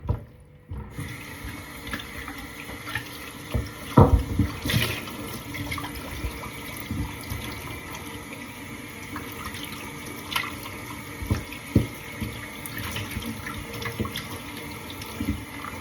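Water from a kitchen tap runs steadily over a whole raw chicken being rinsed in a sink, with a few louder splashes and clatters as the bird is handled.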